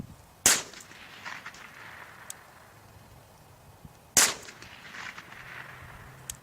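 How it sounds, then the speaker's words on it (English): A .22 LR rifle firing at a quarter-inch or half-inch pine board 200 yards away: two sharp cracks stand out, spaced about four seconds apart, with quiet outdoor ambience between them and no talk. "there's 3 shots"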